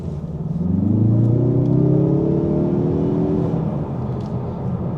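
Turbocharged Mazda 3 accelerating hard, a loud rising engine note that climbs through the revs for a few seconds and then eases back to a steady cruising hum, with no talk over it.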